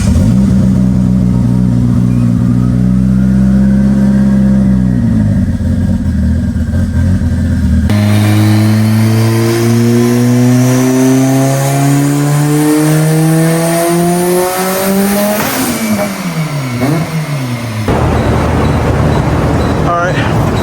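A big-turbo Mitsubishi Evo on a dyno fires up and settles into a loud, close idle, then revs climb and swell before dropping back abruptly, leaving a rough idle.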